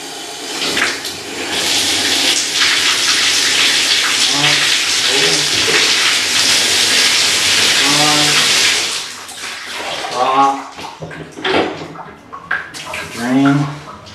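Water gushes steadily from a bathtub faucet with both hot and cold turned on, a loud continuous rush that fills most of the stretch, then cuts off as a person talks over the quieter end.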